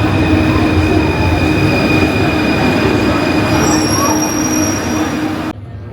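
A Paris train rumbles loudly along the tracks with high metallic wheel squeals, then the noise drops abruptly near the end.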